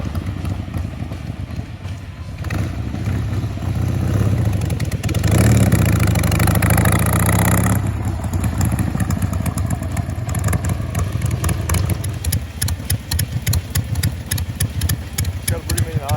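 A Harley Roadster XLS1000 motorcycle engine on a 1970s chopper build revs up loudly for a few seconds, then settles into a rough, lumpy idle with steady clattering pulses, close by, with voices talking over it.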